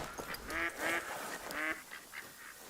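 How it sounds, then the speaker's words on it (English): Ducks quacking in the hunting game theHunter: Call of the Wild, a handful of nasal quacks in quick bursts at mid distance over quiet outdoor ambience. "Sounds like we spooked some ducks."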